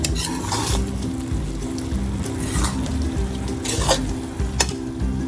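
Zarda sweet rice with dry fruits and tutti frutti being gently folded in a pot, a soft continuous scraping stir with faint sizzle and occasional light clinks of the spoon against the pan.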